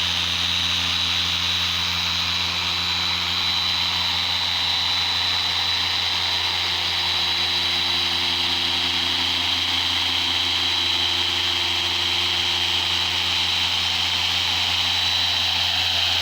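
Rotary polisher with a 6-inch pad buffing car paint, a steady loud high-pitched whine with a constant motor drone beneath, running without a break and close up.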